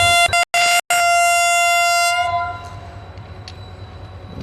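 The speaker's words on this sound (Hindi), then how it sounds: "ये डिपार्ट कर रही है 17 अप और सिग्नल ग्रीन हो चुके हैं 8 डाउन के लिए" A train departs near lineside signals at a station near Lahore, sounding a loud, sustained multi-tone horn that cuts off briefly twice before fading, followed by a quieter rumble of the train moving away.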